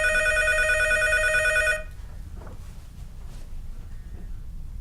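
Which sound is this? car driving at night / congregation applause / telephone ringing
telephone ringing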